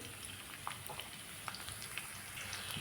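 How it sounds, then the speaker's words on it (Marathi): Steady crackling sizzle of finely chopped garlic frying in hot oil, with scattered sharp pops over a dense hiss. "लसूण आपला कडकडला गेला"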